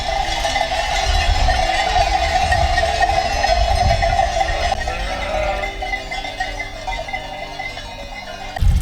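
Large metal sheep bells clank steadily and unevenly throughout as a flock moves nearby in the mountains, with a low rumble underneath and no talking.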